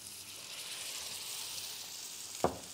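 Veal sweetbreads frying in a pan while being basted with butter, a soft, steady sizzle with one brief sharp clink near the end.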